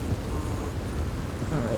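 Steady rain falls in the Red Dead Redemption 2 video game, a continuous dense hiss with a low rumble beneath, fairly soft and even throughout.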